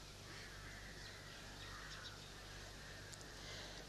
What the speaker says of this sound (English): that the crows should stop their noise.